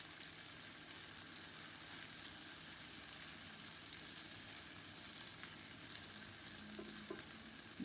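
Cassava pieces fry in a pan, a steady soft sizzle of oil running evenly throughout with a few faint utensil clinks near the end.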